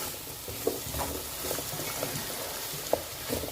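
Veal steak pieces frying with onion, carrot and bell pepper in a pan, stirred with a spoon: a steady soft sizzle with irregular scraping clicks and a couple of sharper knocks against the pan, close up and without voices.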